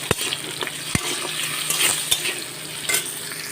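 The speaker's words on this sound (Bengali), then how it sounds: "সামান্য করে হলুদ দিয়ে আলুটাকে আমি ভেজে নিচ্ছি।" Potato pieces fry with a little turmeric in a wok, giving a soft, steady sizzle punctuated by sharp utensil clinks and stirring taps against the metal.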